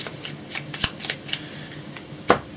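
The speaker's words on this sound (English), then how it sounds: "So yes, so I have to shuffle this up" An encounter deck of cards for the Marvel Champions board game being shuffled on a table, a close run of crisp riffling flutters and soft taps that ends in one sharp snap.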